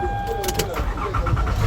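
A brand new car's engine starting up, a short crank and catch into a steady idle rumble heard close, with voices talking over it.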